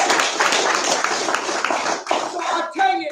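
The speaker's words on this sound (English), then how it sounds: "Can we clap for that?" Audience applause from a crowd at a recovery talk, dense clapping that runs steadily for about two seconds, then thins out and fades as a voice begins speaking over the last stretch.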